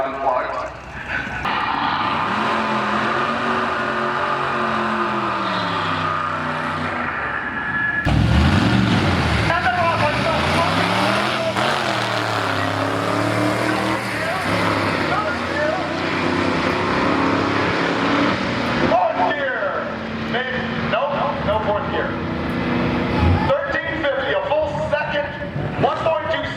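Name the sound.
Vettecart race car engine running at speed, drag race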